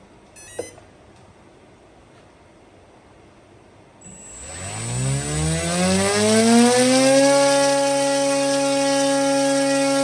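A 50C battery charger finishes a test on a 3S 2200 battery and gives one short chirp. After a few seconds a loud electronic tone starts, its pitch sweeps upward and then holds steady, sounding alone with no talk.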